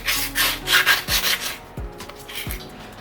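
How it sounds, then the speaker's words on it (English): A new 150 grit nail file is scored by rubbing it, giving a few quick, close, rasping strokes followed by sharper scrapes, alone with no talk. "I'll get a file, and it's the new one, so I'm going to score it first so I don't cut myself."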